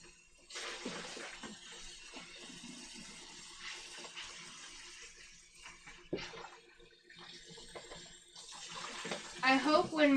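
Tap water runs and splashes in a sink while freshly dyed yarn is rinsed, a steady gush with a sudden surge near the end. A voice talks faintly at times.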